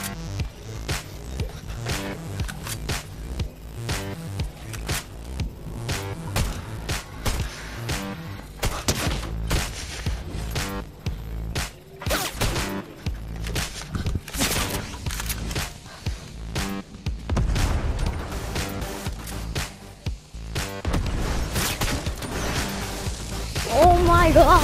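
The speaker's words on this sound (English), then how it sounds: "we're getting shot at" Rapid bursts of Fortnite gunfire crackle in a solo battle royale match, with sharp shots coming in clusters and a few louder cracks, heard under excited talking.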